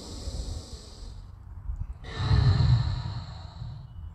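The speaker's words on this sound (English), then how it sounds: "Inhale and exhale." A deep breath during an outdoor yoga flow: a long airy exhale, a brief pause, then a fuller, louder breath swelling through the middle and trailing off, close and alone with no talk.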